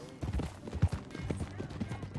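Horse hooves clop at a steady walking pace in the video game Red Dead Redemption 2, fairly close, while people talk over them.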